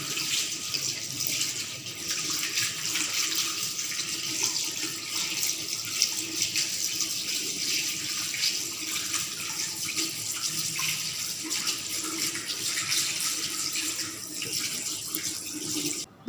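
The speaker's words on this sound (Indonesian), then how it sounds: "sekarang kita akan cuci tangan dan juga merapikan alat" Tap water runs steadily into a sink as hands are washed after a clinical procedure, a continuous close splashing hiss lasting the whole stretch with no voices.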